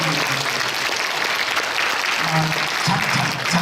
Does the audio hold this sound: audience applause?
yes